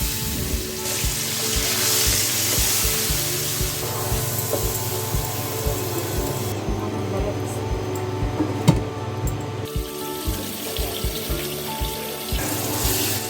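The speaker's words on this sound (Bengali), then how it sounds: "এবার আমি অল্প পরিমাণ জল দিয়ে মশলাগুলো কষিয়ে নিই।" Spices frying with a little water in a pan for chital fish curry, a steady sizzle with stirring clatter and a watery hiss, moderately loud and close.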